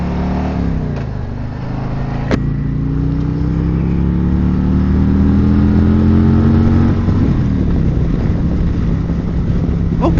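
A Harley-Davidson Road King Special motorcycle on a group ride gives a loud, steady engine drone with rising and falling pitch as it accelerates and shifts, heavy wind rush over the microphone throughout.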